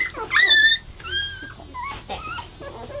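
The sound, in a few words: livestock guardian dog puppies whimpering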